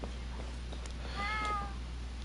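A cat meows once in the video game Genshin Impact, a short, clear, rising call heard over a steady low game hum.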